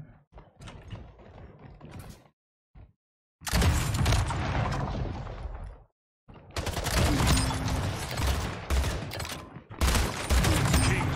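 Gunfire in the video game Splitgate comes as loud bursts of rapid automatic shots with mechanical clatter, split by short gaps of silence.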